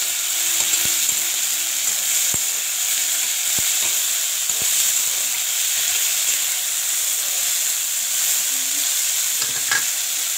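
Long beans and potatoes fry in a hot pan with a steady, loud sizzle and hiss, broken by a few scraping stirs of a utensil, with no voices.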